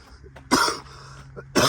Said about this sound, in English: Get a couple coughs out before I go to sit in here.